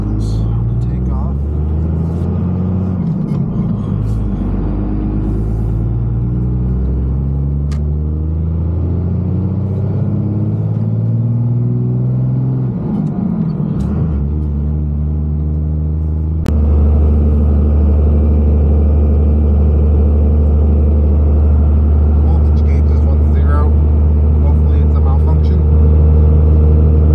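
A truck engine pulls away towing an equipment trailer on steep hills, a deep steady drone that climbs in pitch and then settles into a louder, sustained roar, with talking over it.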